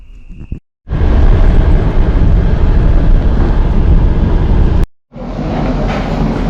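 A passenger train on an overnight international run from Chișinău towards Bucharest rumbles with loud, steady, broadband noise, with abrupt cuts of silence near the start and again before the end.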